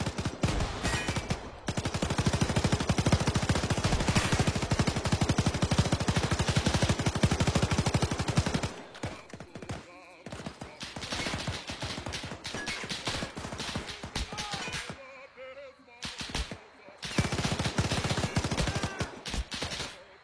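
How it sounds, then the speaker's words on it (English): Heavy gunfire in a World War II video game battle: dense bursts of rifle and machine-gun shots, loud and continuous at first, then broken volleys with short gaps. "I don't even know where those shots are coming from."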